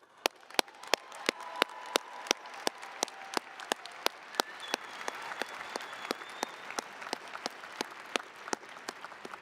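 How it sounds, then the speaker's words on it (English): Graduation ceremony crowd applauds in a soft, distant wash of clapping, with a few loud, sharp claps close by ringing out at a steady beat throughout. "Please join me in giving yourselves a well-deserved round of applause."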